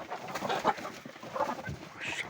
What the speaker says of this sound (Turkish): Tavuklarımızı bırakalım.